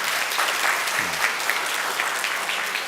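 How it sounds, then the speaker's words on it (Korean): Steady, dense applause from a keynote audience at a business platform developer conference, a continuous wash of many hands clapping throughout. "박수 한번."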